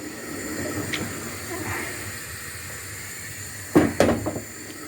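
Vegetables boil hard in a frying pan on full heat, giving a steady steamy hiss and bubbling throughout, with a few clattering knocks of a utensil near the end.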